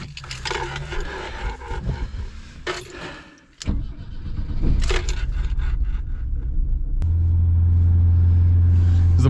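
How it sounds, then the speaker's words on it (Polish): A BMW E21 started up: clunks and scraping, a door thud, then the starter cranks and the engine catches into a steady, loud low idle rumble close by. "teraz wsiadamy do BMW i palimy tą maszynę"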